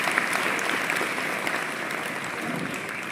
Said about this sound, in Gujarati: આપણે સૌ તાળીઓથી એમનું વધાવીશું.